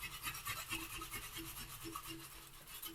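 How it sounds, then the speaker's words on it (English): A half round file rasping along the inside curves of a wooden picture frame, a quiet, steady back-and-forth scratching with a regular stroke rhythm, close but faint. "if you have a half round file, you can turn it upside down, just stick it into the inside curves"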